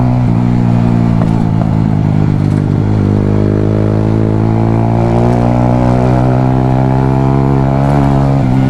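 Close engine roar from a 250cc motorcycle being ridden in Jamaica, loud and continuous, with a gear change near the start and then a rising rev as the bike accelerates.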